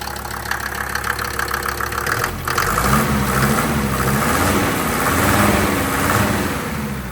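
A car engine with its drive belt running, a loud steady idle with a low rumble and whirring belt tone, continuous and close throughout.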